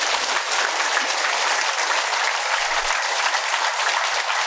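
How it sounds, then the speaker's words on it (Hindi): Sustained applause from an audience at a Nepali yoga camp gathering, a dense steady wash of clapping that holds evenly loud throughout with no voices over it. "त्यसको लागि आफ्नो लागि ताली बजाउनु।"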